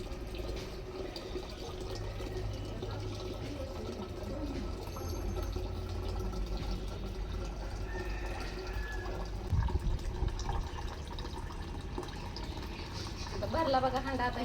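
Tap water pours steadily into a metal water pot, a continuous rushing stream with faint background sounds and a brief louder splash near the end.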